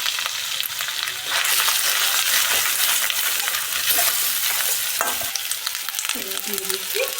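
Garlic and ginger paste sizzles and fries steadily in a pan for mutton biryani, a loud continuous hiss with occasional stirring scrapes and clinks.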